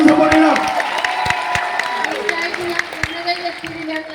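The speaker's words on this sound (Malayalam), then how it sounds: "നല്ലൊരു കൈയടി കൊടുത്തുകൊണ്ട് സപ്പോർട്ട് ചെയ്യണം." An audience claps and cheers at a prize event, the clapping and crowd noise strong at first and then thinning, with a voice speaking over it.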